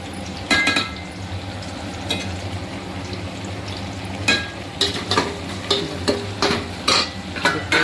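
Ginger garlic paste frying in a pan while cooking a Sunday special chintamani curry, a steady sizzle with intermittent scraping stirs and utensil clinks, close and moderately loud.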